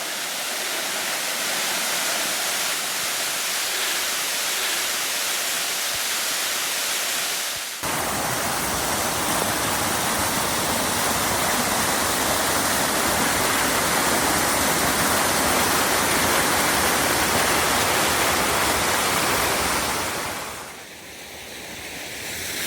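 Steady rushing water pours loudly and continuously through a railway track culvert, a broad roar that shifts in tone partway through, with no voices.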